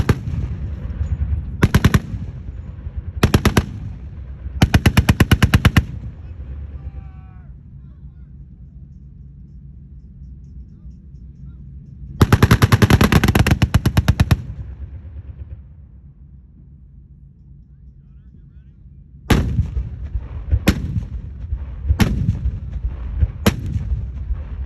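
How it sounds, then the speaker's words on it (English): Tanks firing at a military weekend display: repeated loud booming cannon shots and bursts of rapid fire in several separated volleys, with quieter stretches of engine rumble and crowd ambience between them. "the tanks are going to stay in line and they're going to start doing some more shooting"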